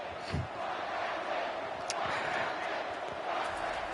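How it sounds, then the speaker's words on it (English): A large stadium crowd chants in College Football 25 during a Big Ten championship game, urging a blocked kick. The roar is a dense, distant wall of voices with faint rhythmic chanting. "this crowd, which would very much be pro-Ohio State IRL if this game were to take place, is chanting to block the kick"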